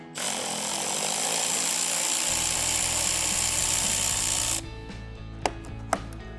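A power tool, likely an impact driver or drill, runs loud and steady while removing a 10mm bolt holding the bumper on a 2025 Toyota 4Runner, then stops, followed by a couple of sharp clicks.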